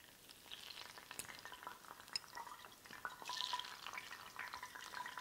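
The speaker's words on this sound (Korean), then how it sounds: "한번 튀겨줄 건데 저희 일식에서는 스아게라고 해서 그대로 튀기는 튀김을 스아게라고 합니다" Whole fat greenling fish being deep-fried in hot oil, suage style, giving a steady bubbling sizzle with crackling pops and spits that swell midway, close and moderately quiet, with no talking.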